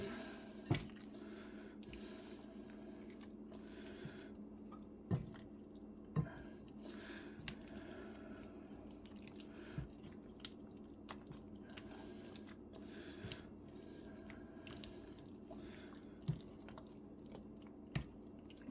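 Cheesy broccoli casserole ingredients being stirred together in a bowl make faint, soft squelches with sporadic sharp clicks and taps of the utensil against the bowl in a quiet kitchen.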